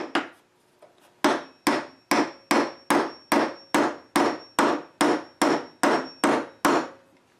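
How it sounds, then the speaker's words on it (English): A hammer pounds a square wooden peg into a round hole with a steady series of about fifteen sharp, evenly spaced knocks, close and loud with nothing else heard. "hammer this down"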